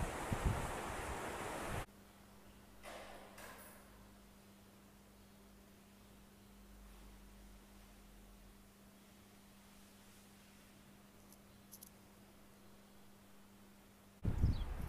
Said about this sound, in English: You probably only hear wind